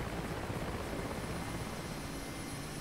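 Rotor drone and engine whine of an Mi-8 helicopter landing in the DCS flight simulator, a steady loud broadband thrum with no pauses throughout.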